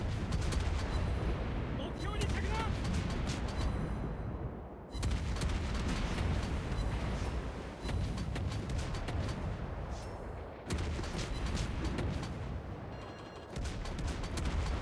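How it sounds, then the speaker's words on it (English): Enemy ship firing armor-piercing shells in a World of Warships naval battle, heard as repeated heavy booming salvos and thudding blasts that run nearly continuously, loud and dense, with brief lulls between volleys and talk mixed in. "He's firing AP at us."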